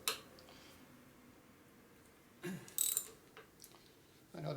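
A ratchet loosens a pinch bolt on a used Harley-style rigid bobber chopper, giving a few short clicking bursts near the middle and end of an otherwise quiet stretch, close and moderately loud.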